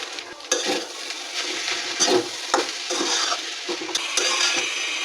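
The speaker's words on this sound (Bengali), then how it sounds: "এখন আমরা চিংড়ি মাছ, ডিম, ভাত সব একসাথে মিশিয়ে নেব।" Shrimp, egg and cooked rice being stirred together in a hot pan with a little butter, salt, curry leaves and coriander, giving a steady close sizzle broken by repeated scraping and clattering strokes of a utensil against the pan.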